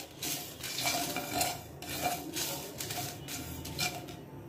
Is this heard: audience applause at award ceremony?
no